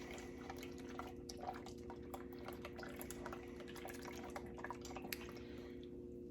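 A spoon stirs Jell-O powder into hot water in a bowl, a faint run of soft liquid clinks and swishes over a steady background hum.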